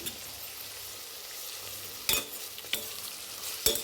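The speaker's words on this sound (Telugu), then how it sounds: "పచ్చిమిర్చి వేసిన తర్వాత రెండు కాసేపు వేగాలి" Green chillies fry in hot oil for veg biryani with a soft, steady sizzle, broken by three sharp clacks of a spoon striking the pan.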